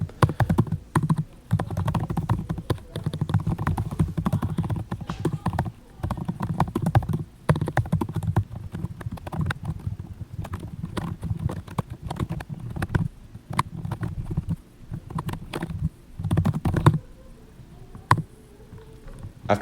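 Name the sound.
typing on a Dell XPS 13 laptop keyboard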